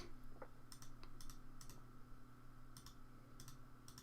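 Sharp computer clicks come in small irregular bursts while someone works through football fixtures in a management game, quiet and close over a steady electrical hum.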